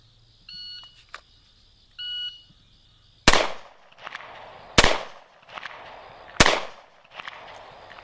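A SIG P250 pistol fires three sharp, loud shots about one and a half seconds apart during speed shooting, each with a short echoing tail, after two electronic shot-timer beeps.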